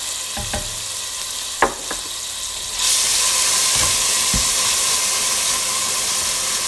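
Onions sizzle in a hot pan for a home-cooked white bean stew, a few stirring clatters at the start before a loud, steady frying hiss swells up and continues without talk.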